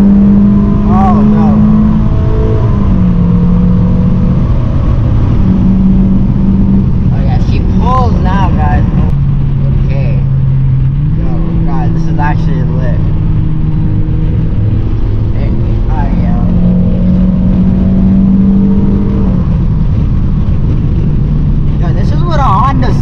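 A 2019 Honda Civic Sport with a K20C2 engine and a KTuner tune, floored in third gear, pulls hard through VTEC with a rising engine note and repeated shifts, heard from inside the cabin while someone talks over it.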